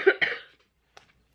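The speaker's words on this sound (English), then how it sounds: "I need to work out how to get rid of this cough." Two quick, close coughs in a row, followed by a brief silence and a couple of faint small sounds.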